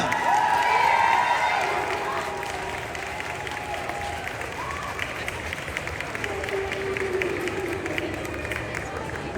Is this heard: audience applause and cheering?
yes